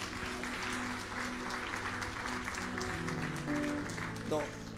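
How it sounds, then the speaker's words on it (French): An audience at a religious preaching event applauds loudly and continuously while a voice carries on over the clapping. "On acclame très fort."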